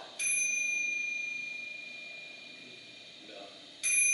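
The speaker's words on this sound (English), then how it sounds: "hey, there's a bell!" Two bright, ringing dings come from the bell inside an IBM Selectric III typewriter, each struck sharply and then left to decay slowly, heard close with a faint voice between them.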